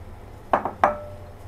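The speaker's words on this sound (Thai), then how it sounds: "น้ำเดือดแล้วค่ะก็ใส่ถั่วลงไปเลยค่ะ" Cut yard-long green beans drop into a pot of boiling water, making two quick clinks close by against a quiet kitchen background.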